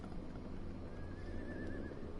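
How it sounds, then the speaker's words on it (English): A horse neighs in the Call of Cthulhu video game, a thin rising whinny that lasts about a second. It rides over a steady loud low rumble of ambient game noise, and no voice is heard. "That's a horse."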